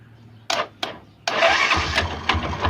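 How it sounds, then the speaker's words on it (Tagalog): Rouser 135 LS motorcycle engine starting: two quick starter clicks, then the electric starter cranks and the single-cylinder engine catches and settles into a steady rough idle, close and loud. "Start natin yung motor and then"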